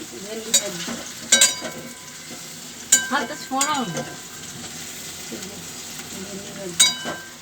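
Pointed gourd sizzles in a hot pan while a spatula scrapes and clanks against the metal every second or two, close by.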